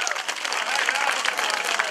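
Audience applause at a Romanian village festival, Sărbătorile Coașului, a dense steady clapping from a crowd that fills the whole short stretch at an even level.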